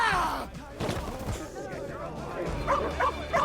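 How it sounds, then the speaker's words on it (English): Dog yelps, whimpers and short barks from a video game scene in Two Falls (Nishu Takuatshina), mixed with speech, a thud and a few higher squeals near the end, fairly loud throughout. "No, it's gonna kill my dog again."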